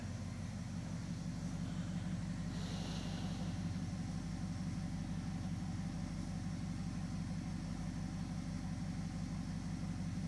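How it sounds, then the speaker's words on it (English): A car engine idles steadily with an even low pulsing chug, close by, with a brief faint hiss partway through. "What RPM is it idling at?"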